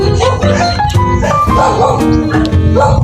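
A dog barks repeatedly and loudly nearby in Siquijor, Philippines, yips and whimpers mixed in, with a voice talking underneath.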